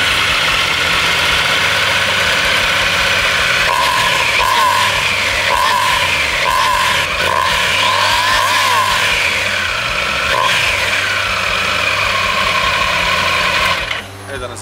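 A 2024 Triumph Tiger 900 Rally Pro motorcycle engine runs close and loud, a steady idling drone with slight revving swells that cuts out abruptly near the end.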